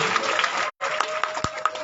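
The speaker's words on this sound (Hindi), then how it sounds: "तालियां बजाते हैं भाई" An audience at a Shrimad Bhagwat Katha religious gathering claps steadily, a dense ongoing applause with a brief cut in the middle.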